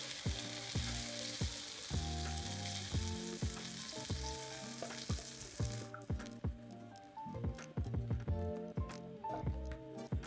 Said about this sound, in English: Now it's time to add our bone broth and our braising liquid.